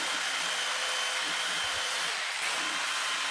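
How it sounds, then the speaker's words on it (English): A jigsaw cuts at an angle along the top of a wooden chair part during a repair, giving a loud, steady, buzzing whine that runs unbroken through the whole stretch. "I just take my jigsaw and just cut at an angle along the top"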